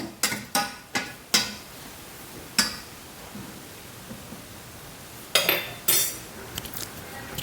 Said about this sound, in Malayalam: ഇതിൻ്റെ പ്രഷർ പോയി കഴിഞ്ഞു കേട്ടോ തുറക്കാം നമുക്ക്